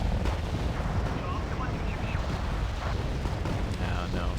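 BM-21 MLRS rocket artillery firing in the video game Wargame: Red Dragon, a dense rumbling barrage of launches and blasts rolling on continuously at moderate loudness, with a voice faintly underneath.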